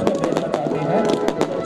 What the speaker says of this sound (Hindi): जोरदार आतिशबाजी आप देख रहे हैं।